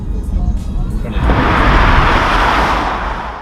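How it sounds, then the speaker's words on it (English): A BMW 435d xDrive diesel engine revs up from a low idle into a loud, sustained roar, with a broad rasping exhaust note that holds steady for several seconds before easing slightly. "It does pack out quite a good sound for a diesel car."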